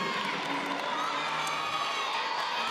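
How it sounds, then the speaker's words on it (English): A college gymnastics meet crowd, West Virginia at NC State, cheers and whoops in a dense, continuous roar while a gymnast plays to the stands before beam. "Now she's facing the crowd, getting everyone into it."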